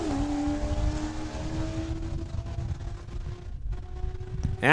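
A supercharged Corvette drag races down the track at Saskatchewan International Raceway, its engine note holding a steady high drone at moderate distance. A broad roar sits underneath, and the sound ends in a rising burst.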